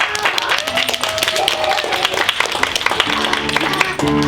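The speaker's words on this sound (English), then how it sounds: "let's give a big round of applause for Mia as she comes up." Applause and clapping from a first grade audience at a school music performance, loud and lively, with children's voices and sustained musical tones mixed in, ending as a tone cuts in.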